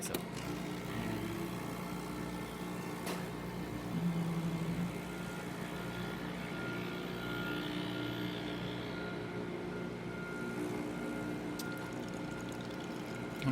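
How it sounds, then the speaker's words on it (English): A Breville Barista espresso machine, just repaired for a failed solenoid valve, pulls a double shot with a steady pump hum and a faint trickle that stay even and close throughout. "now we're just gonna test out the machine, starting with the double shot of espresso"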